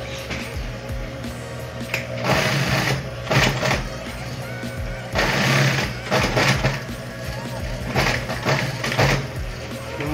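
A sewing machine stitching a woman's handbag with synthetic material, running in three short, steady bursts of rapid mechanical whirring, separated by quieter pauses, with a low steady hum beneath.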